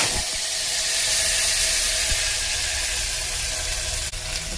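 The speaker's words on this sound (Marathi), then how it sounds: "आता टाकते गवार" Washed guar beans hit hot oil in a pan with a loud, steady sizzle, a broad continuous hiss that carries on without pause and no talking over it.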